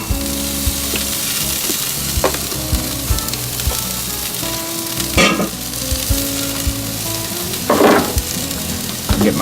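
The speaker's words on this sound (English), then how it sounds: "it's a lot easier to put the burgers on the grill frozen as opposed to thawed out" Frozen burgers sizzle steadily on a grill, a loud close crackle with brief scraping and stirring bursts rising over it.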